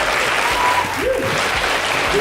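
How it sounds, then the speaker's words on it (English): An audience at an activism talk breaks into sustained applause, a dense, steady wash of clapping close by with a few faint voices mixed in. "let's give a big round of applause to my main man"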